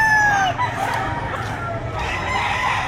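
Chickens and a rooster at a weekend poultry market in Lipa, Batangas, crowing and clucking up close over a busy, noisy background, with a long crow trailing off early on.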